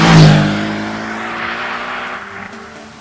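Mercedes-AMG C63 S with a 4-litre twin-turbo V8, a loud close engine and exhaust blast that peaks at once, then fades into a sustained lower drone as the car pulls away.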